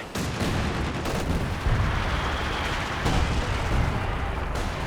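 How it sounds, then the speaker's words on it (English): Heavy mortar shells landing in Company of Heroes 2, a dense stretch of booming impacts and crackling battle noise, with several distinct heavy hits standing out over continuous rumble. "Big hits from the heavy mortar though."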